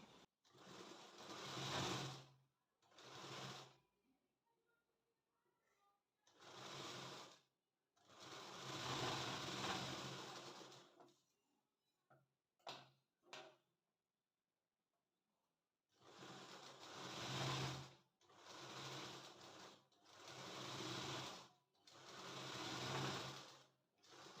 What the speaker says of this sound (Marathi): हे जे भाग आहेत त्यांना डबल टीप टाकून घेऊयात